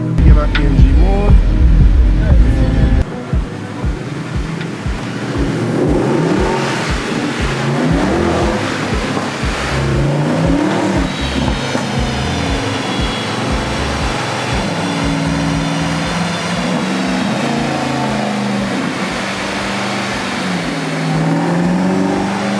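A Mercedes-AMG car engine revs hard on a chassis dynamometer, a loud sustained roar with rising and falling pitch and rapid pulsing, held near and continuous for over twenty seconds after a brief louder start.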